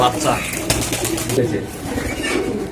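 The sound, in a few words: giribaz pigeons cooing in a loft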